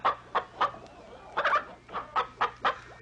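A chicken clucks in a quick series of short, close calls with brief pauses, against a faint low hum.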